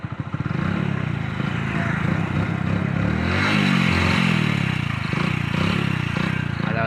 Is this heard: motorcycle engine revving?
yes